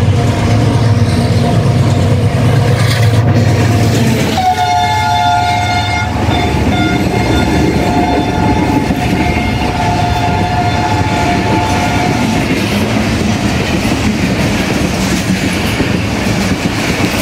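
The Pak Business Express passenger train, led by an H-30 locomotive, passes loud and close at Okara Railway Station in Pakistan, with a long horn blast and a continuous rumble and clatter of wheels on rail.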